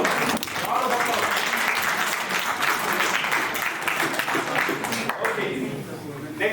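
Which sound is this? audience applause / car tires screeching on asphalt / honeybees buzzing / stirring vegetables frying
audience applause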